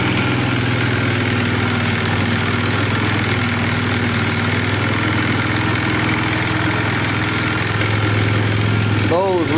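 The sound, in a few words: Polaris 325 Magnum four-wheeler engine idling high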